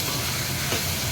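Prawns fry with onions in a pan over a fairly low flame, giving a steady, moderately quiet sizzle throughout with no voices.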